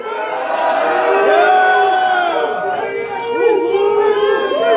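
A concert crowd on a metal tour cheers, whoops and yells loudly, raised voices overlapping in a dense roar that swells again near the end.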